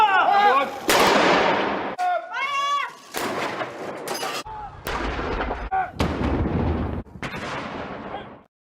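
Cannon fire sound effect from a hockey livestream intro: a dense run of loud booming blasts mixed with other effects and tonal sounds, filling the whole stretch.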